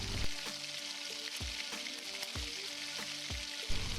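Prawns fry in hot oil in a home kitchen for chingri bhuna, a steady close sizzle broken by several soft knocks and thumps from the pan.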